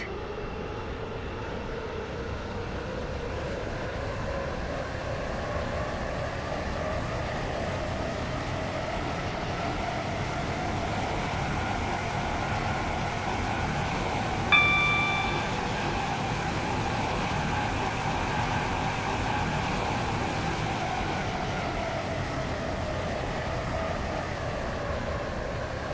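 A Stepford Connect train in the Roblox game Stepford County Railway runs steadily, with a continuous broad rumble and rolling hum that swells slightly mid-run. A brief tonal chime is heard about halfway through.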